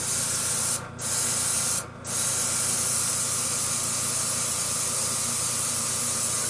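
Airbrush spraying thick pearl powder paint onto a fishing bait, a steady close hiss broken by two brief pauses early on, then continuous, with slight spitting from paint left in the airbrush overnight.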